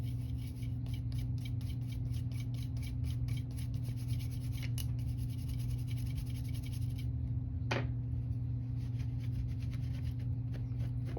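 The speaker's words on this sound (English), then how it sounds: "I'm going to take just this brush, just a gun cleaning brush, and just see if I can get any loose rust off" A gun cleaning brush scrubs loose rust off a rusty gun in quick, steady back-and-forth strokes, close and continuous over a constant low hum.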